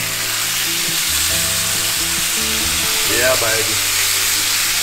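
Deer meat with lime, garlic and oregano hits a hot iron skillet and sizzles loudly and steadily up close. A voice talks briefly over the frying.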